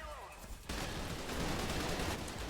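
Gunfire from a shotgun in a video game, a sudden loud burst that fills the clip with dense, noisy crackle after a brief quieter moment.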